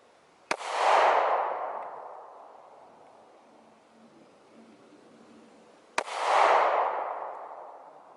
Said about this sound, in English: Don't worry about when the gun goes off.